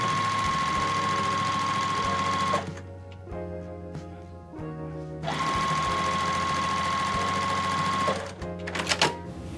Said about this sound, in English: I'm gonna sew directly across these lines here.